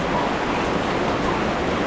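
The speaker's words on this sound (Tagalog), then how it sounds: "Lakas ng ulan." Heavy rain pours steadily, a dense, even hiss of water hitting surfaces with no pauses, loud and close.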